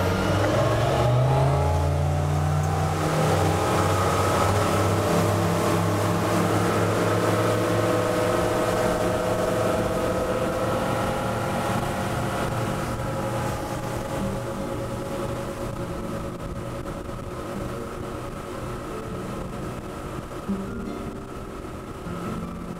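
Twin Suzuki 200HP outboard engines on a Bluewater 2550 boat roar under full throttle, with the pitch climbing steadily in the first seconds and then holding as a loud, continuous drone with a hiss of water.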